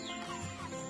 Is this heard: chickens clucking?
yes